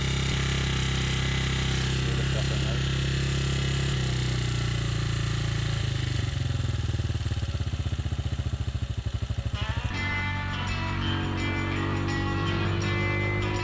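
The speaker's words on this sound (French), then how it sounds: "En ouvrant cette vis, c'est le moment où le moteur a le meilleur régime moteur." Motorcycle engine idles steadily up close while the idle screw is adjusted, a continuous low rumble whose pitch shifts as the screw turns, with a brief spoken remark near the start.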